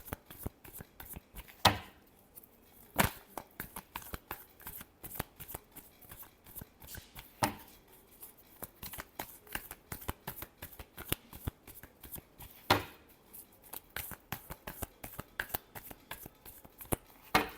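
Tarot cards are shuffled by hand nearby, a long run of quick, irregular riffling flicks and soft taps with a few sharper snaps scattered through, and no talk over them.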